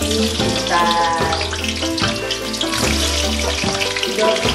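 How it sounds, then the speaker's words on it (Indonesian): Potatoes lowered into hot oil for a soy-sauce chicken dish sizzle with a steady, loud frying hiss, accompanied by a background musical melody. "sepertinya minyaknya udah panas, kita masukkan kentangnya pelan-pelan ya"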